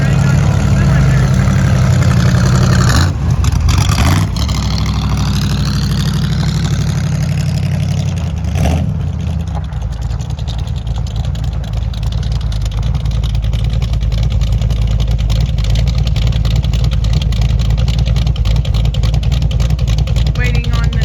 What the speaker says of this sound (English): do a burnout and see what it'll do now when it's running on all cylinders